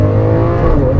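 A Lamborghini Aventador engine, which revs to 8,500 RPM, holds a loud, steady high-rev roar with a dense harmonic drone, close and continuous for about a second with no talk.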